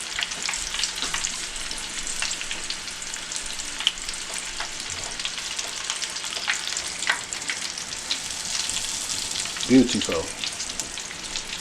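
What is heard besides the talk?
Cajun shrimp deep frying in oil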